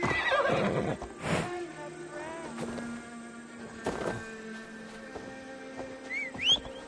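A horse neighs loudly at the start, a long shrill whinny, followed by softer snorts and distant whistling tones over a quiet game ambience, in the video game Assassin's Creed Valhalla.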